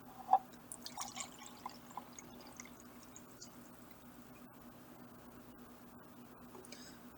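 Water trickles and drips faintly into a liter container in a short early burst of small splashes, then fades to a quiet, steady hiss.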